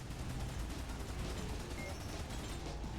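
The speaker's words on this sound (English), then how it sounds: "Taking out a lot of people with this. Mines." In a parking-garage rally racing video game, mines go off as a dense, continuous barrage of sharp, gunfire-like blasts and rumble, loud and steady throughout.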